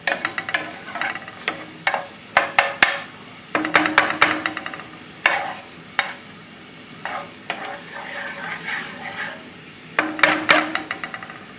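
Garlic roasting in a pan for an avocado and fresh tomato whole-grain pasta, giving a moderate frying sizzle broken by repeated sharp scraping stirs in an uneven rhythm.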